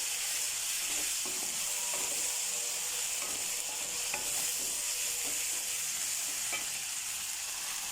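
Ginger garlic paste stirred into minced meat for aloo mutter keema in a hot pan, a steady bright sizzle with scattered scraping clicks of the spoon throughout, close and continuous.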